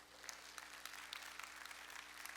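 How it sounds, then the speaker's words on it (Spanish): A church congregation applauds during a sermon, steady clapping filling the room at a low, even level for a couple of seconds with a faint hum underneath. "¿Cuántos pueden darle un aplauso al Señor?"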